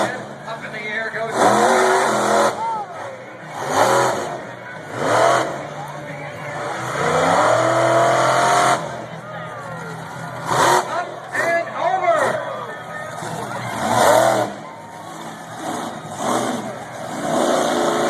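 Monster truck engines rev and roar at an arena show in repeated rising and falling bursts, loud and sustained, while an announcer talks over a crowd murmur.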